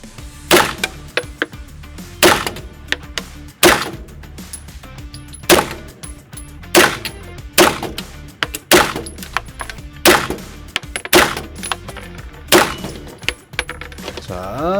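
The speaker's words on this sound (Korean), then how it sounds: "10발 먼저 천천히 쏴보고" Ten slow, evenly spaced gunshots from a KRISS Vector at an indoor shooting range, each a sharp loud crack with a short decay, roughly one every 1.3 seconds.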